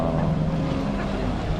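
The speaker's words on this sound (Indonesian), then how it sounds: "Oh, ada speedboat." Speedboat on the water at Batam, a steady broadband engine and water rush running loud and continuous throughout, with wind buffeting the microphone.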